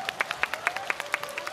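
On the TV singing show Tian Ci De Sheng Yin season 3, the audience claps in a quick, even rhythm of about a dozen crisp hand claps, with a thin sustained tone running underneath.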